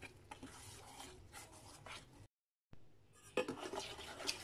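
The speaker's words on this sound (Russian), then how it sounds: "Дальше я буду все это перемешивать до получения однородной массы." A close, steady scraping and rubbing of a spoon stirring thick salt dough in a bowl, with a brief pause partway before the stirring resumes.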